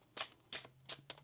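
Tarot cards shuffled by hand in four quick, soft riffling bursts, close but quiet against a faint steady hum, with no talking.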